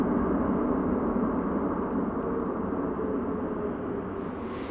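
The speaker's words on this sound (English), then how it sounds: "it's a very quiet landing for such a big plane" A large airliner lands at DFW Airport, heard as a steady, distant broadband engine roar that stays fairly quiet and even throughout, with no voices.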